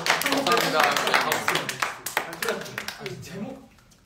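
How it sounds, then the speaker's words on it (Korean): A small group of people clap their hands during a livestream, sharp quick claps pattering through the moment while voices talk and laugh over them, fading toward the end. "다들 박수. 박수. 감사합니다. 박수."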